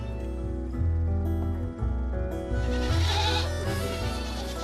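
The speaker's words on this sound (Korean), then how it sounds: "지난 겨울 태어난 새끼 염소들에게 오늘은 매우 중요한 날이다" Young goats born last winter bleat in western Norway, with repeated, fairly loud, wavering calls overlapping one another and no talk.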